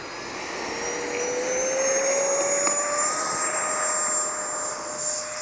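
An FMS Rafale 80mm RC model jet flies past, its turbine-like ducted fan whine rising in pitch as it approaches, peaking loud mid-pass, then easing as it moves away.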